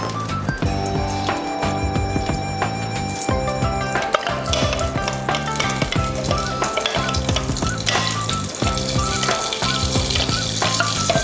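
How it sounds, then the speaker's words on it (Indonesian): Spice paste sautéing in a little oil in a pan, a steady close sizzle mixed with scraping and clinking of a utensil stirring, with no talk. "Kita tumis bumbunya, kita beri sedikit minyak."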